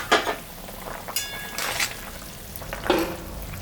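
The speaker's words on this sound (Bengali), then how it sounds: "এখন আমি মাছটা দিয়ে দেব।" Pieces of jiol fish drop into a boiling fresh-papaya fish curry, giving a few close splashy bursts and a hissing bubble as they hit the simmering liquid.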